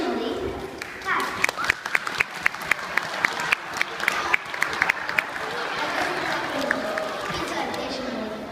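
Children at a school assembly in Tokyo clap in response to a vote, a scattered round of applause with sharp individual claps over crowd murmur and some chatter.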